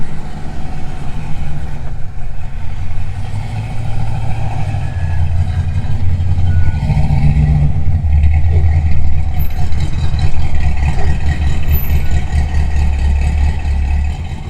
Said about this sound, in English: This thing's idling a little bit low, like probably 600 RPM.